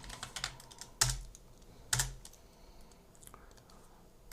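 Computer keyboard typing up close, quick light key clicks with two sharper, heavier key strikes, likely tab presses, and no voice.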